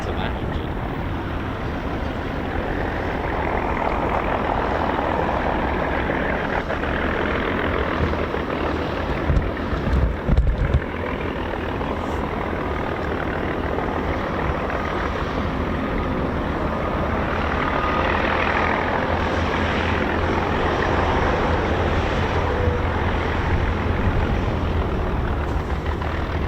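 A steady aircraft engine drones loudly and continuously at the RAF Fairford air show, with wind noise buffeting the microphone and a brief thump partway through.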